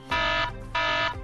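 ShakeAlert LA earthquake warning app alert: two loud, harsh electronic buzzer blasts, each about a third of a second, separated by a brief gap, heard alone.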